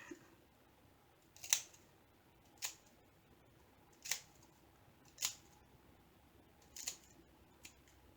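Scissors snip through paper while kitting up a diamond painting, six crisp separate cuts spaced about a second apart, close and clear against a quiet room.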